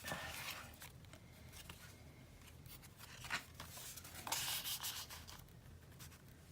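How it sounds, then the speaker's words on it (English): Scissors trim the edge of a paper cut-apart, heard as soft close scraping and snipping sounds in a few short irregular bursts, faint and alone. "Let me just trim that edge a little bit."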